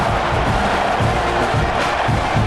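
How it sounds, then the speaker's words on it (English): Stadium crowd at a college football game, #3 Texas A&M against South Carolina, roaring and cheering in a dense, loud, continuous wash of many voices throughout. "this crowd is feeling themselves after that last drive"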